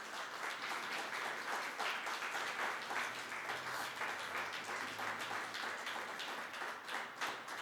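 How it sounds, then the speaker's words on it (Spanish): Church congregation clapping during a Spanish-language Sunday morning service, a soft, steady patter of many hands heard from a distance with no talking. "dale ese fuerte aplauso a Él en esta mañana"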